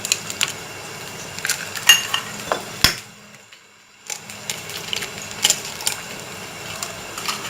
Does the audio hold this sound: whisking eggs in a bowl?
yes